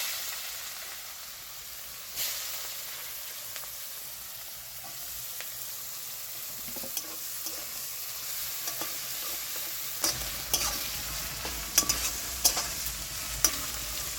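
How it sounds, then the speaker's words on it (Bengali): Chopped onions frying in a pan for a mustard pabda fish dish, a continuous soft sizzle with occasional stirring scrapes and light clicks, getting brighter and busier toward the end. "পেঁয়াজ কচুগুলো দিয়ে দিচ্ছি।"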